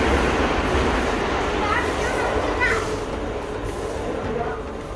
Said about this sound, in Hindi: ये एक और लोकल ट्रेन पास होते हुए।